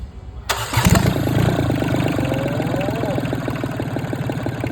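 A Yanmar 3TNE68 three-cylinder 15 hp diesel engine fires up with a sharp start, then settles into a steady, close, rumbling idle with a rapid even chugging rhythm.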